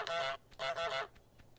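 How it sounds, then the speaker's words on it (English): Goose honking in a video game, two loud nasal honks in quick succession followed by a fainter trailing call. "Geese. Goose."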